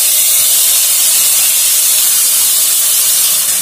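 Onion and tomato paste hit a hot pan, giving a loud, steady, close sizzle and hiss that fills the whole moment without a break.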